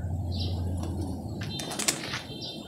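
A young bird takes off with a burst of wing flaps near the middle, set against a steady outdoor background with faint chirps at a loft where birds are trained; no one speaks.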